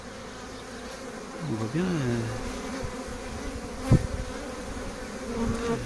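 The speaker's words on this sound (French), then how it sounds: "il y a des abeilles qui battent leur appel pour ramener les copines" Honeybees at an apiary hive near the landing board buzz in rising and falling passes close to the microphone, with a brief knock midway and a person speaking quietly over them.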